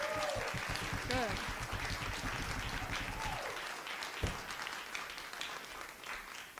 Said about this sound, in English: Can I get a round of applause for folks being here to talk rent control on a Tuesday?